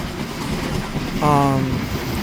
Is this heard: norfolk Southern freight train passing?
yes